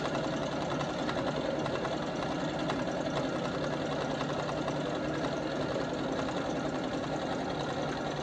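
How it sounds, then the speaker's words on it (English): A sewing machine stitches a pumpkin-design fall quilt, running in a steady, continuous mechanical whir with rapid needle chatter that stays even and close throughout. "when it's doing stitches, you have to let the machine just go, and you're just gently turning it"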